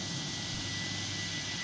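Jet engines of an MD-82 airliner in the X-Plane 12 flight simulator, a steady loud broadband roar with a constant high whine, unbroken and without speech.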